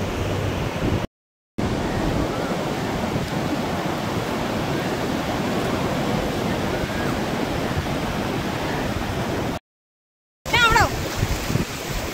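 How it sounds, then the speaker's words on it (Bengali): Waves washing up onto the shore at full moon make a steady, loud broadband surf roar that carries on without a break, with a short gap near the start and another near the end. "পূর্ণিমার সময় ঢেউটা একটু বেশি থাকে।"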